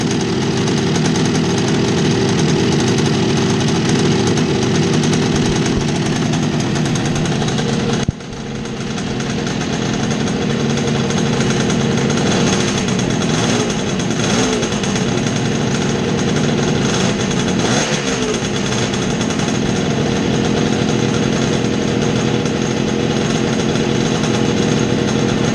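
The engine of a 1966 Bridgestone 175 two-cylinder motorcycle runs loud and close after its first start, a continuous buzzing roar with one brief dip in level, then steady running without speech.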